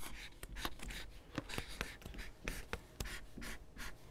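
Pen or marker writing a date on a classroom chart, a quiet series of short scratchy strokes and taps in irregular rhythm, close by with no talking.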